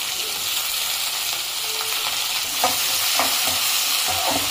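Chopped shallots and onions fry in a pan for fish curry, with a steady close sizzle and a few soft stirring scrapes toward the end.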